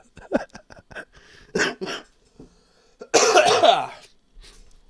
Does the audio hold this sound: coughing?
yes